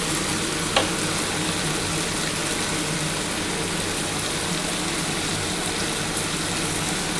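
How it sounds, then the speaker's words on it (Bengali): Long beans fry with onion, turmeric, salt, a little sugar and chili powder in a pan for a potato curry, giving a steady, close, even sizzle that runs unbroken throughout with no talking. "আমার কিন্তু পেঁয়াজের সাথে ভালোভাবে বরবটিটা মোটামুটি ভাজা হয়ে এসছে"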